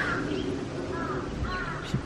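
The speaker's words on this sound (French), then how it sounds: "c'est limite flippant avec tous ces corbeaux" Crows caw repeatedly at Nagoya Castle in Japan, several harsh calls overlapping against a steady outdoor background, fairly near and continuous throughout.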